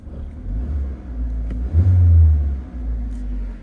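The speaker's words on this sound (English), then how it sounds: "it's still fun to drive because it's Mazda based, and a very peppy 4-cylinder engine" A Mazda-based 4-cylinder engine in a 2016 Scion iA revs in a steady low rumble, swelling to a louder rev in the middle before settling back, heard close up.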